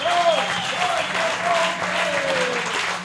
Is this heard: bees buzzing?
no